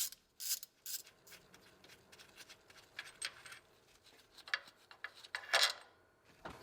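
Metal bolts being loosened and removed from the timing chain cover of a 1980-1996 Ford Bronco engine, with irregular ratcheting clicks and sharp metallic taps close by, bursts scattered throughout, no talking.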